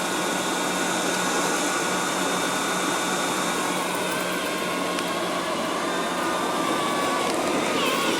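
Liectroux B6009 robot vacuum cleaner running and picking up pet fur, a constant close whirring motor hum with a steady high whine, unbroken throughout.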